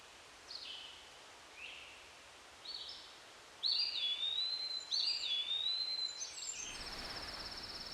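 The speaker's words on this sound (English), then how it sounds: "and the sound of the birds." Faint bird calls and whistled songs ring out over quiet rustling, a few short chirps first, then longer melodic phrases near the end.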